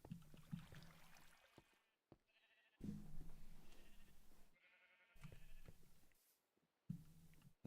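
Sheep bleating in the video game Tyrannical Borders, several short bleats in bursts separated by brief silences, with no talking.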